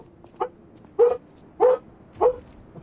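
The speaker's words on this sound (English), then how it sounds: "My dogs are freaking out over something." Dogs bark indoors in four short, evenly spaced barks, the first softer and the next three loud and close, with quiet between them.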